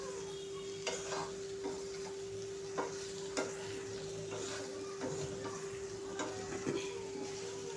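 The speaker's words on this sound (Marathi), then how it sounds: "ही भाजी बारीक गॅसवरती शिजवायची आहे आपल्याला।" Okra bhaji frying in a pan over a low gas flame, a soft steady sizzle with occasional spoon scrapes and taps as it is stirred, over a faint steady hum.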